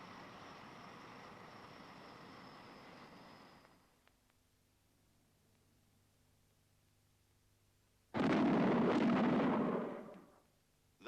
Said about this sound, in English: Those bangs were shock waves from an aircraft in transonic flight.